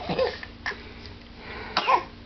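A baby gives a few small, soft coughs spread over a couple of seconds, close by and fairly quiet.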